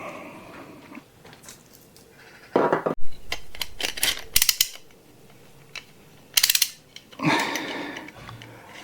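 Small bolts come out of the rocker covers of an old motorcycle with Imperial hand tools, making close, intermittent metallic clicks, ratcheting and clanks separated by short quiet gaps.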